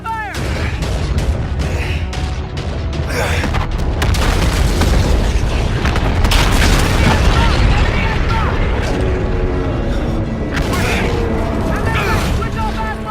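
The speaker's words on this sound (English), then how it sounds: "Guns! Swivel mount fire one! Open fire! Open fire! Incoming missile bearing 240!" Naval gunfire and explosions aboard a warship in the video game Call of Duty: Infinite Warfare, a dense, continuous barrage of booms, blasts and mechanical clatter with shouted commands over it.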